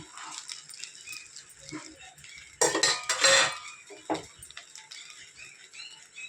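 Fried egg tipped into fried rice in a pan seasoned with masala and soy sauce, then stirred: a loud burst of scraping and clattering against the pan, with softer utensil clinks before and after.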